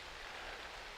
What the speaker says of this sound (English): It's nice to hear the rain though.